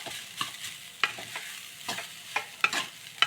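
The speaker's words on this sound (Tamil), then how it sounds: "கொஞ்சம் நல்லா கலக்கி கொடுத்துடலாம்." Carrot capsicum rice being stirred in a pan after the stove is switched off, a series of close scraping strokes and soft clinks in an uneven rhythm, quiet and without talk.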